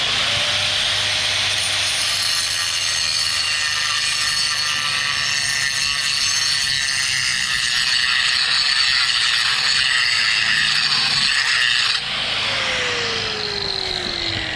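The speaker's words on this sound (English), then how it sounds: "Just gonna take these ends here where the saw don't reach, just use a grinder, finish it out." An angle grinder cuts the ends of saw cuts in a concrete garage floor with a loud, continuous, high whine that holds steady and shifts pitch slightly near the end.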